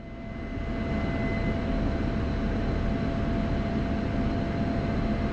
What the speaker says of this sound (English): taking off runway 31 right